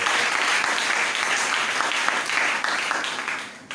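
A church congregation claps and cheers in praise of the Lord, a dense, loud, continuous wave of applause filling the room.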